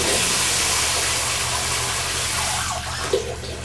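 Warm water pours steadily from a tap at close range, a continuous broadband rush that softens slightly near the end with a brief splash.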